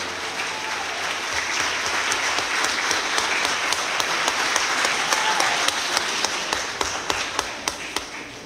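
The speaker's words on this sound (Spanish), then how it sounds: "Quiero pedir un aplauso para todos los que organizaron este evento" A council session crowd applauds the event organizers, sustained clapping throughout that gains sharper individual claps toward the end, fairly close and loud.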